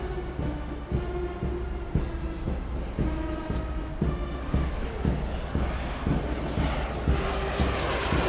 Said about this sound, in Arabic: هذه طائرة قاتلة نوع T-50.